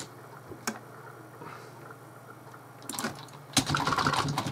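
Keyboard typing in the video game Emily Is Away: a sparse click or two, then a burst of rapid key taps near the end, close and fairly quiet with no talk.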